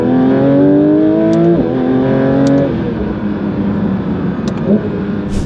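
A Porsche 992 GT3 RS engine revs hard in rising stepped pulls, then drops off and settles into a rough idle, loud and close, with brief sharp mechanical clicks near the end.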